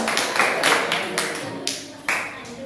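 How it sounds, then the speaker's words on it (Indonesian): Scattered clapping from a classroom of students thanking group 1 after their presentation during a teaching practice session, a few irregular claps in short bursts rather than full applause. "kita beri tepuk tangan untuk kelompok 1 yang sudah menentukan"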